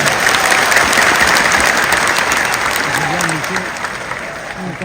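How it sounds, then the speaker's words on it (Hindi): Loud, dense applause from a large crowd at a packed political rally in Patna, Bihar, sustained for about five seconds, with voices rising briefly through the clapping near the end. "जोर से ताली बजाएं।"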